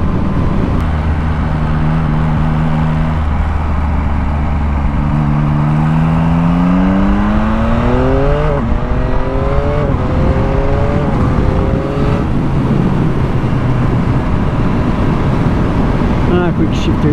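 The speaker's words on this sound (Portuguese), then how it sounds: "A admissão com exaustão." New combustion car engine accelerating hard during break-in, intake and exhaust droning from inside the car, pitch rising through gears in repeated sweeps over steady road noise, loud and continuous with a voice speaking over it.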